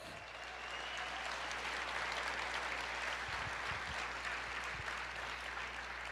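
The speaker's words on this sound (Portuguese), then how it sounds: "Você pode aplaudir o Senhor e dizer: eu creio." A church congregation applauds during a sermon, a broad, sustained wash of clapping that holds steady with a low hum beneath it.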